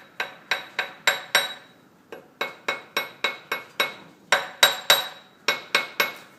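Light hammer taps seat the spindle clutch on an antique Rockford lathe: about twenty sharp metallic clinks in quick rhythmic bursts of four or five, each ringing briefly, close and clear with no talk.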